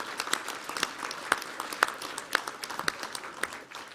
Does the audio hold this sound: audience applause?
yes